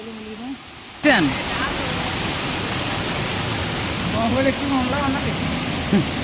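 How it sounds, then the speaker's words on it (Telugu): Dharapalli waterfall pours between big boulders in a steady, loud roaring rush close by, after a brief quieter moment with a voice at the start; faint voices occur under the water. "ఆ పెద్ద బండరాయిల మధ్య నుంచి వాటర్ ఎందుకైతే రావడం జరిగింది."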